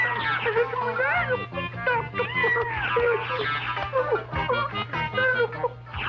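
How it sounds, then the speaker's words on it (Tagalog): A cat meows repeatedly in a Filipino comedy film scene, several drawn-out, wavering cries in quick succession over a low steady hum. "eh pusa lang yan"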